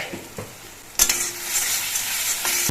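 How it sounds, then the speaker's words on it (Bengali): Spice paste for a fish dish is stirred and fried in a pan, a few light spatula taps and then a sudden louder sizzle that keeps hissing close by. "মশলাটা একটু নেড়ে চেড়ে কষিয়ে নিয়ে"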